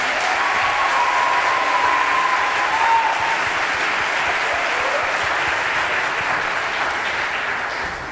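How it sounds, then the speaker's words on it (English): Sustained applause from a large audience after a high school orchestra performance at a fine arts festival, a dense steady wash of clapping that tapers slightly near the end. "Let's give them another round of applause."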